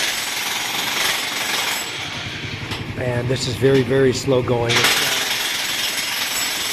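A jackhammer hand-digging a well in the Philippines, rapid loud pounding and rattling that runs continuously and close, with someone speaking over it partway through.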